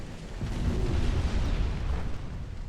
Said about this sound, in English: 2 torpedo hits on a battleship.